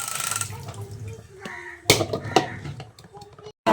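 Water is poured off while fish is being cleaned, splashing and dripping into a basin with a few sharp clatters of handling. The sounds are close and uneven, with a brief pause near the end.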